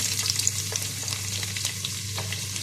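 Four medium onions sizzle and fry in hot coconut oil in a non-stick kadai, a steady close hiss with light crackles and soft stirring, no voices.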